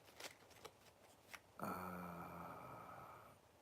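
A few soft tarot card flicks, then a quick riffle shuffle of the deck that settles into a sustained ringing rustle, close and quiet.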